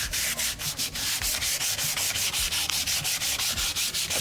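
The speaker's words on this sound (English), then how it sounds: "all the forethought you're putting into sanding my bumper for me" Steady scraping of sandpaper across a Club Car golf cart bumper being smoothed for small imperfections, close and continuous with a regular back-and-forth rhythm, no talking.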